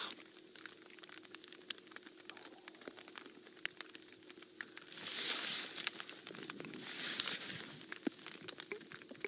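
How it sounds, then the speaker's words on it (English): Soft, steady patter of light rain on safari in the African bush, with scattered drips and crackles, swelling briefly twice into a louder rush of water. "due to this pitter-patter of rain."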